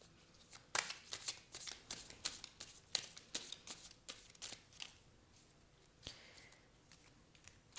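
A tarot deck being shuffled up close, quick papery riffles and slaps in a fast uneven rhythm, soft overall with no speech.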